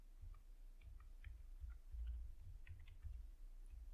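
A computer keyboard clicks in quick, irregular keystrokes, soft and close, with no other sound.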